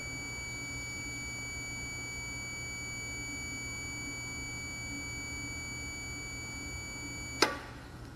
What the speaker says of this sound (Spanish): Vemos que la alarma deja de activarse en 28 PSI